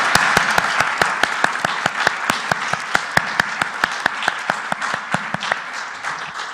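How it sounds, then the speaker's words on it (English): Audience applause closing a panel discussion on human capital and inclusive growth, with sharp, regularly spaced claps from what sounds like a few people nearby, steady and fairly loud over the whole stretch. "I will start applauding to all of you for making this happen"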